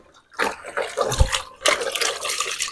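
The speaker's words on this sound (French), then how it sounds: "On rince aussi nos bras avec." Water splashing and pouring as arms are rinsed after handling fish at a fish farm, a short burst of running, sloshing liquid close by with brief pauses between rinses.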